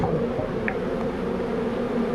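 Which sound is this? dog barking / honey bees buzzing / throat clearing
honey bees buzzing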